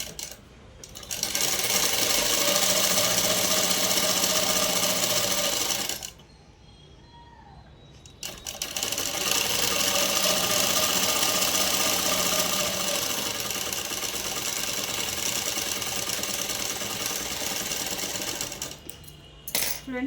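A sewing machine stitches cloth onto canvas in a steady, close, mechanical whir, pausing once for about two seconds midway and stopping briefly again near the end.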